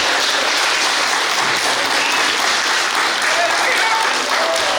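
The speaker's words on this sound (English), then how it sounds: "the congregation applauding at his very appearance" A church congregation bursts into sustained applause as a priest enters for a service, dense continuous clapping filling the room loudly from start to finish.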